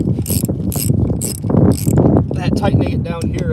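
Ratcheting wrench clicking while a hydraulic tank fitting on a Hitachi excavator is tightened, quick rhythmic bursts of close, loud clicks with someone talking over them.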